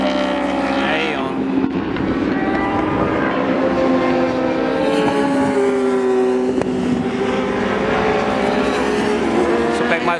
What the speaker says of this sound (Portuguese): O Eduardo, a moto dele é um R6 laranja, macacão preto, número 13